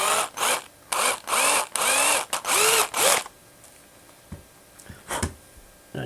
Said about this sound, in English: let's drill the hole for the steel ball.